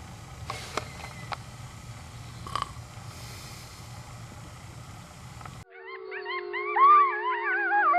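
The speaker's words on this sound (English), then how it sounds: "we were just woke up by the sound of wild howling coyotes" Wild coyotes howl, rising and wavering in a quiet night at Grand Canyon National Park, then become louder and clearer, several voices overlapping in long sliding wails.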